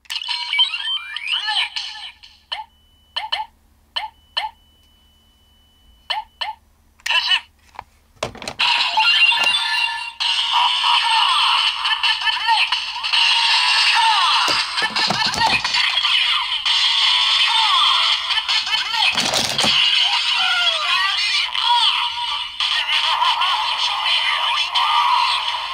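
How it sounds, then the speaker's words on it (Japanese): A Kamen Rider Revice DX Vistamp and Vice belt toy, a Premium Bandai memorial edition, gives a few sharp plastic clicks, then loud, continuous electronic transformation music and character voice lines over about twenty seconds. "めっちゃバイス音声鳴る。"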